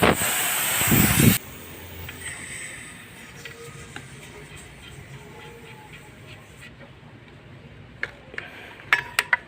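A loud burst of air hisses from the refrigerant line of a Haier HV-12VCQ32 air conditioner, then cuts off abruptly, leaving quiet room noise with a few faint clicks and taps.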